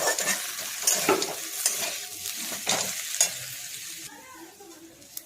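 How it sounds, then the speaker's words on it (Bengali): Potato filling with chopped coriander leaves is stirred and mixed in a hot pan, a steady scraping and sizzling with periodic louder spatula strokes, close and alone, fading quieter near the end. "ভালো করে মিশিয়ে নেব"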